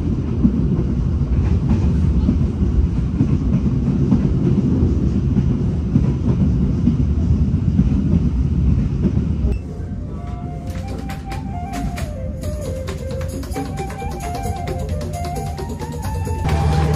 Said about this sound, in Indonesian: Ini kereta api Sri Tanjung berhenti di stasiun Jember.